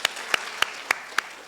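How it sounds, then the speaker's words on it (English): An audience at a school debate between Kagumo Boys and St. George's Secondary School claps in a slow, even rhythm, with five sharp, distinct claps spaced evenly over about a second and a half. "Please give them a round of applause."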